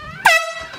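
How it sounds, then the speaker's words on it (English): A single loud, blaring air horn blast sounds close by, cutting off abruptly after a fraction of a second. "I'm gonna scare him with the air horn"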